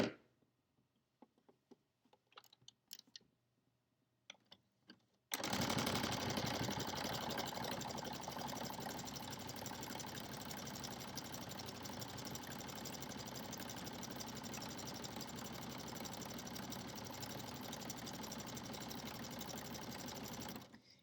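A domestic sewing machine runs an overcast stitch along a pajama pants seam, starting after a few quiet clicks and holding a loud, steady, rapid mechanical hum with no talking.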